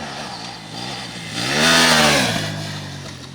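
A 2020 KTM 790 Adventure R motorcycle engine revs up and falls back in one quick swell, close and loud.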